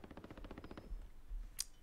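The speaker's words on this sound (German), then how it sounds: "Viele Schüsse." Rapid gunfire in Call of Duty Warzone, a fast rhythmic burst of automatic shots that fades after about a second, followed by a single sharp crack; fairly quiet, with no talk.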